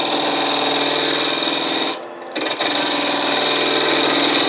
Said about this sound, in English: We're just going to come in with a spindle gouge right into it.